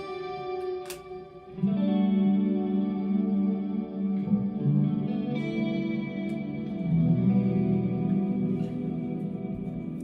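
Instrument played through an effects unit with reverb, sustained chorused and slightly distorted tones swelling in from about two seconds and ringing on with a long wash of echo, loud and close with no voices.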